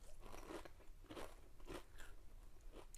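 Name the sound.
crunching kettle-cooked potato chips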